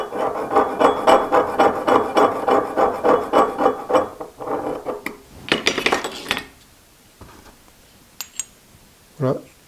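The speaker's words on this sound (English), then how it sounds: "Scribe a line at 5 degrees." A line is scribed across a metal part for a spring cut-off tool: a run of rhythmic, gritty scraping strokes close up, fading out, followed by a few light taps.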